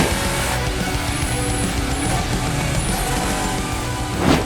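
Euronascar stock cars race past in a steady, loud roar of engines that holds for several seconds, with a brief swell near the end and no talk.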